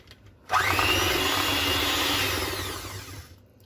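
An electric mixer whirs loudly as it beats a mixture in a bowl, kicking in abruptly and running steadily for about three seconds before winding down.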